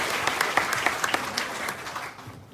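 Audience at a BJP workers' felicitation ceremony in Kolkata clapping together: a steady, dense round of applause with sharper individual claps on top, fading out at the very end.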